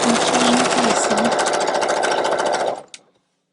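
A sewing machine runs fast and continuously, chain piecing quilt pieces for a tote, with a loud even mechanical whir that stops abruptly near the end, followed by one small click.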